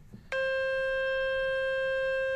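A phone speaker plays a loud, pure, steady tone meant to push water out of the speaker; it starts abruptly after a faint tap and holds unchanged to the end.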